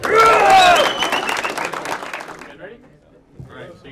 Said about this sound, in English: Everybody's hands getting tired from clapping.